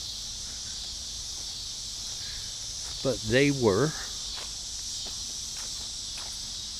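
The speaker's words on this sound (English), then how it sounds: "I'm going to see if I can get away from these cicadas a little bit" Dense, steady cicada buzzing outdoors, a constant high whine that runs through the whole stretch, with a brief burst of a man's speech near the middle.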